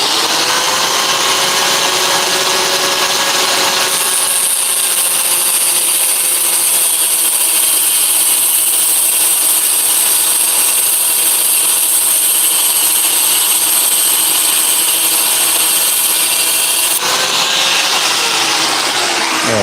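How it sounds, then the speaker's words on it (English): A power tool cutting through a metal bolt, a loud continuous high-pitched grinding whine that holds steady for several seconds before cutting off, close by with no talk. "Let me cut this bolt real quick."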